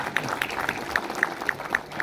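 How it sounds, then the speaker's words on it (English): Light scattered clapping from a small group, a few distinct claps spaced out over a couple of seconds, fairly soft. "Let's give a round of applause for him"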